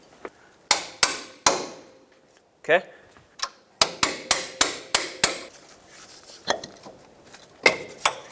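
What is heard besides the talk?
hammer tapping out a bolt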